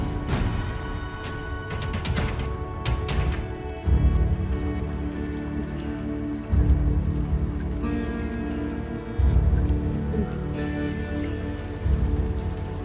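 Steady night rain patters and drips on a surface, a dense even wash with a few sharper splashes early on and no voices.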